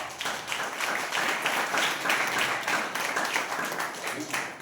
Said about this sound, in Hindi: प्रभु के लिए जोरदार ताली बजाओ